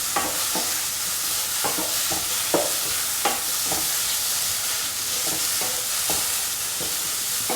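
A pot of mushroom stew with ash gourd, coconut milk, onions, tomatoes and spices being stirred after salt goes in, a steady bubbling hiss with repeated spoon scrapes and taps.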